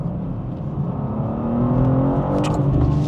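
Manual BMW M2 (G87) accelerating, heard from inside the cabin: a steady engine drone that builds in pitch and loudness toward the end, with a faint whine over it.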